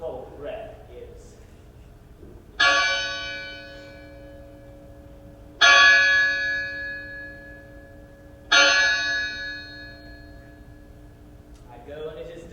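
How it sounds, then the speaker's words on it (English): A church bell tolls three times during a stage performance of Macbeth, each loud ringing strike decaying slowly before the next, with voices speaking faintly before and after. "The bell invites me."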